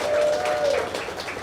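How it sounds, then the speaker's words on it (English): Applause from an audience at a foundation event, a steady wash of clapping heard briefly with a faint tonal note over it. "Give them a round of applause"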